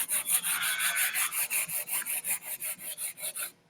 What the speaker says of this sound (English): I'm going to be using 120 grit sandpaper. And I will be just sanding on this section here.